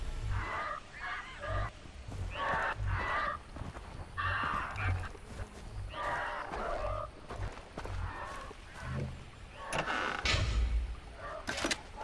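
Birds in the game Far Cry 3 squawk and honk in repeated harsh bursts, close and fairly loud over a busy ambient background, with some overlapping calls toward the end.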